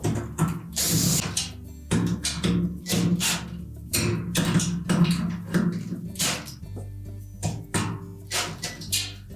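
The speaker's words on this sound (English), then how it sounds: "make sure we have all 6 of those screws tightened securely" Screws are tightened on a Whirlpool washer during a brake spring repair, with a string of close, sharp ratcheting clicks and mechanical knocks in uneven bursts and a low hum underneath.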